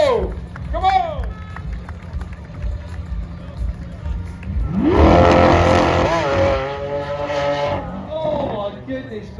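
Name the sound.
Lamborghini Aventador engine noise at car show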